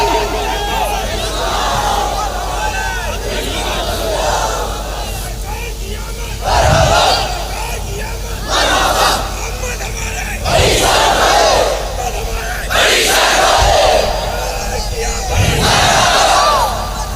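Large crowd at a Milad-un-Nabi religious gathering loudly chanting a devotional slogan in unison, powerful surging bursts of many voices rising and falling in repeated waves over a continuous roar of babble.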